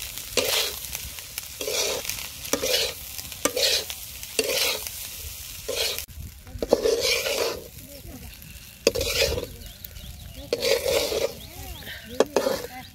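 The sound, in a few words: cold rice frying and stirred in a wok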